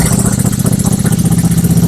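A 1938 Matchless Model X motorcycle engine, newly fitted with electronic ignition, idling close by with a loud, steady, regular thumping beat and no voices.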